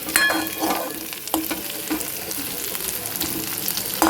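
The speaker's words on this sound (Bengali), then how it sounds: "মশলা দিয়ে সব কিছু ভাজা ভাজা করে নিয়ে কষাচ্ছি" Spices and mixed ingredients fry in oil in a pan, a steady close sizzle with scattered scraping and stirring clicks throughout.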